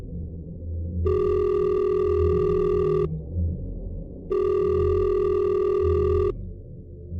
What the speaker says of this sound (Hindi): एक रूम के गेस्ट ने कॉल किया